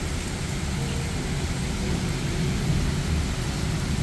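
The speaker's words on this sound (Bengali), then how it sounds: "মানে এত বিদ্যুৎ চমকাচ্ছে, বাপ রে বাপ" Heavy thunderstorm with strong wind, lightning and pouring rain, a constant broadband rush of rain with deep low rumble, steady and loud with no voices.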